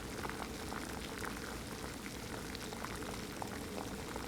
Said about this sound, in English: So we got a full boil now at basically about 7 minutes 36 seconds.